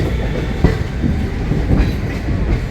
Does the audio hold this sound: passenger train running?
yes